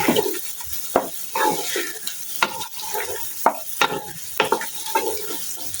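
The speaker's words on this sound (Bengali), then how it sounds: "দিয়ে দিব আদা বাটা 3 চা চামচ, দিয়ে একটু মিক্স করে নিই।" Ginger paste being stirred into chicken in a frying pan, a utensil scraping in repeated strokes over a steady sizzle, close and fairly loud, with sharp clacks against the pan.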